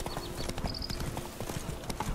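Hooves of Roach, a horse in The Witcher 3, clip-clopping in a quick, steady trot, close and continuous, with game ambience and faint tonal sounds behind.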